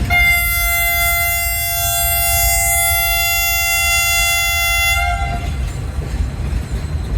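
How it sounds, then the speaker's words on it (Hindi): A departing 11 Up passenger train at Rohri sounds one long, loud, steady horn blast lasting about five seconds before it cuts off, leaving low rumbling rail noise underneath. "साथ ही साथ 11 अप का डिपार्चर विसल।"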